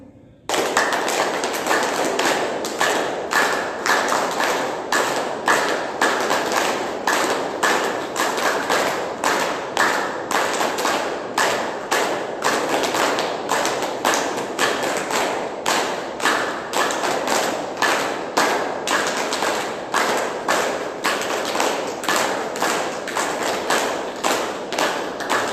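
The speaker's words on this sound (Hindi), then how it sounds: "तालियां एक साथ, एक रिदम के साथ।" A yoga class claps together in steady rhythm, sharp unison claps repeating evenly for the whole stretch, loud and close with no talking.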